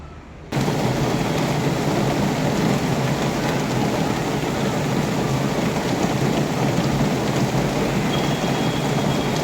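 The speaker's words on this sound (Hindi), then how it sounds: "झमाझम बारिश हो रही है, आवाज़ भी आ रही होगी कि कितनी बारिश हो रही है, बहुत तेज़ बारिश है आज।" A heavy downpour roars steadily outside a home building as rain pounds the surfaces, a dense, loud, unbroken wash of noise with thunder rumbling low beneath it. No voices are heard.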